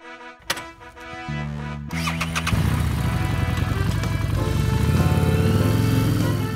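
A motorcycle engine cranks over with a few sputters, catches and settles into a loud, steady idle close by, with no talking.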